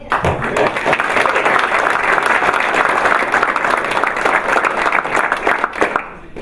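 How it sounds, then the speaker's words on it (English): An audience at a My Brother's Keeper induction ceremony bursts into loud, dense applause, many hands clapping steadily for several seconds before tapering off near the end. "give him another round of applause"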